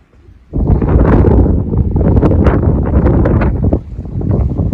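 Strong wind in the winter mountains near Zakopane and the Kościeliska valley, a loud, rough gusting roar buffeting the microphone, with a quiet lull before it surges in.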